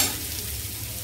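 Capsicum and slit green chillies are stir-fried over a medium flame for chow mein, giving a steady close sizzle with soft stirring scrapes.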